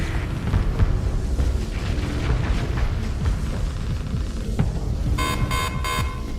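Spaceship weapons in a Starsector Underworld mod battle with the Starlight Cabal fleet, a steady barrage of rumbling booms and bursts of fire, ending with a repeated electronic buzzing alert.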